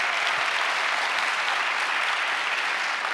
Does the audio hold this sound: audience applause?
yes